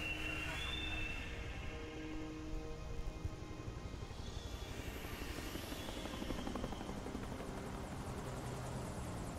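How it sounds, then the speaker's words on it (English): Helicopter in flight in the video game Lost Planet 2, a steady loud rotor drone filling the whole clip with a constant whine layered on top. "Thanks for not making our chopper crash."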